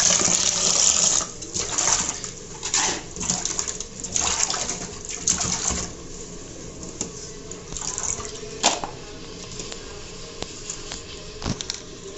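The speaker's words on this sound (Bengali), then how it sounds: "শুটকিগুলো আমি এভাবে পরিষ্কার করে এই যে ধুয়ে নিয়েছি।" Dried fish (shutki) rinsed under running water from a tap, a steady close splashing and trickling with intermittent louder gushes and drips, no talking.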